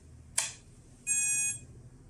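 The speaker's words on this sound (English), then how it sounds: "But we find that there is only 1 beep sound and no response of the throttle stick." A RadioLink AT10II-controlled RC motor gives a single short chirp, then after a pause one sustained electronic beep of about half a second, clear and close against a faint background hum.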